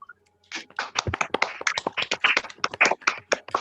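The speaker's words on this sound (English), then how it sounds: "let's give Mr. Howard a clap, shall we, everyone?" A whole school on a Zoom call claps for a teacher, with many hands patting and tapping in a dense, irregular burst that starts abruptly and carries on without a break, close and clear.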